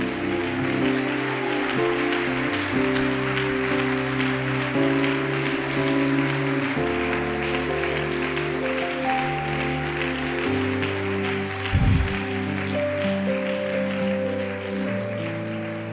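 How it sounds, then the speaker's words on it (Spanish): A church congregation applauds during a sermon, steady dense clapping across the whole stretch, blended with sustained organ or keyboard chords playing underneath. "Alguien tiene que aplaudir más fuerte a este Dios de amor."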